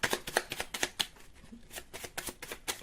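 Tarot cards are shuffled by hand in a quick series of crisp, riffling bursts, a dozen or so close ruffles in an uneven rhythm, heard alone and fairly soft.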